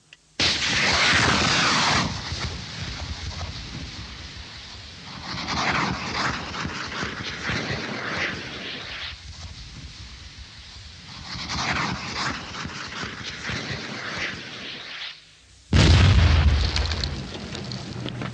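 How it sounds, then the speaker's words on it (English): A Viper rapid breaching device fired from an Avery armoured vehicle clears a path through a minefield. Rolling, surging battlefield rumble builds in waves, then a sudden deep, heavy boom bursts near the end. "the Avery, fitted with a giant Viper rapid breaching device, explodes a safe path in a matter of minutes"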